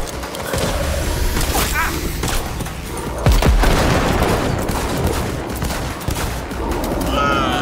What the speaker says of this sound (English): Missed most of my shots there